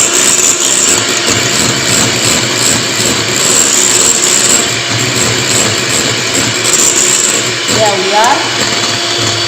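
An electric mixer whips cake mixture at high speed, a loud, steady motor whine that runs throughout, with a voice speaking briefly over it.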